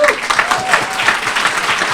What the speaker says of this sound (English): Always the applause line.